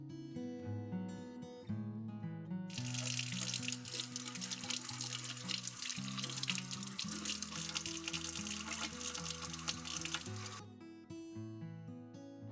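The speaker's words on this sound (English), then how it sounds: "rinse these vegetables under running water" Tap water gushes steadily into a sink for several seconds as vegetables are rinsed, over soft background music, then shuts off.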